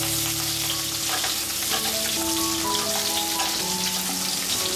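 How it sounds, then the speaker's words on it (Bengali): Sliced potatoes and pumpkin frying in oil in a pan while being stirred, a continuous loud sizzle with faint scraping of the spatula, no voices. "কুমড়োটাও নেড়ে চেড়ে ভেজে নেব"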